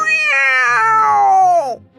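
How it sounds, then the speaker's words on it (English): A cat gives a single long, loud, drawn-out meow lasting about two seconds, close and clear with no other sound, used as an effect in an animated story. "A cat with sharp teeth and sharp claws jumps up on the table."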